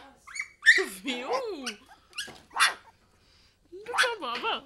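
Puppies yip and bark excitedly near a mother dog, high whiny yelps and squeaky barks in uneven bursts with brief pauses between them.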